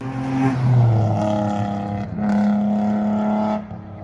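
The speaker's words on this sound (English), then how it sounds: "my 3-inch catless test pipes from ISR that I put on the car gives it a super loud, raspy noise that I love" Nissan 350Z VQ engine breathing through 3-inch ISR catless test pipes, a loud raspy exhaust drone that swells, dips briefly, then rises again before cutting off, close and alone with no talk.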